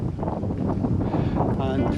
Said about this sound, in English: wind has just got strong. I hope this isn't hope it isn't affecting the sound.